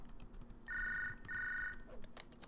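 An electronic telephone rings inside a video game, two clear warbling bursts separated by a short pause, fairly quiet over faint background noise.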